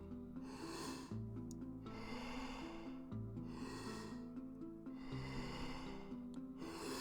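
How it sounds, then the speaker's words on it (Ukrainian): Deep Wim Hof method breathing alternates full, forceful inhales with relaxed exhales in a steady repeating rhythm, close and audible over a soft sustained musical backing. "повний вдих, відпускай видих, сильний вдих, легкий видих"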